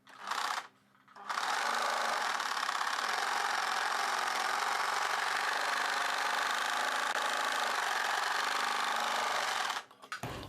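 A sewing machine stitches a blouse lining in a long, fast, steady whirring run after a brief start and pause, stopping at the end with no talk.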